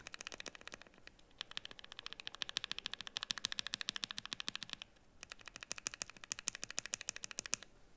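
Rapid clacky keystrokes on a keyboard fitted with Jade Pro hall effect switches come in dense bursts with a short pause midway, crisp and close, and no one speaks.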